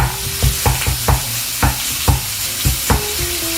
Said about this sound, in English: I'm gonna add my ground beef right in the middle of that pan. Hear that sucker sizzle.